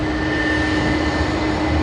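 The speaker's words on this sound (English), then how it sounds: "K401 Korean Air coming in from Seoul Incheon with their nice Pepsi livery" Korean Air Boeing 787-10 jet arriving at Sydney Airport from Seoul Incheon, a loud, steady engine roar with a sustained whine, close by and without voices.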